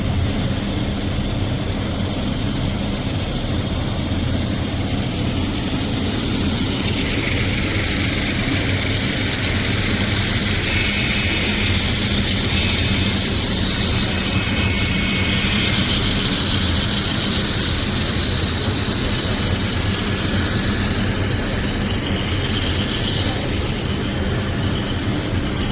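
Model trains running on a large show layout with a reverse-loop mountain, giving a steady, continuous rolling rumble and light mechanical clatter that carries on throughout without any talk.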